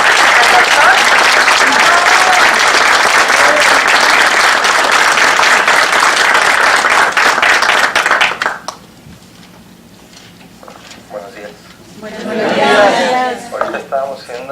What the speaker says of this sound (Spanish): Así que por favor recibámoslos con un fuerte aplauso al doctor.